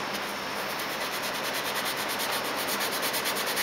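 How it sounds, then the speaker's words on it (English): Steady, close-up sanding of plastic model kit seams: a continuous gritty rubbing that keeps a constant pace with no pauses and no voices. "I'm going to begin right here by sanding down this forward area"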